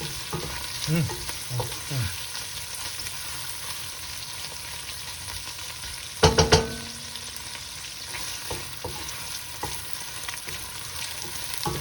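King prawns frying in a pan for a Greek saganaki with tomatoes, feta and ouzo, giving a steady sizzle with occasional stirring scrapes and one brief louder clatter partway through.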